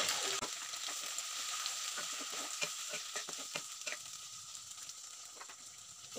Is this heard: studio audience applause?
no